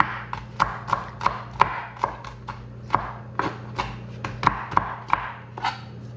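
Knife chopping onion on a cutting board, a steady series of sharp, close taps at an even rhythm over a low background hum.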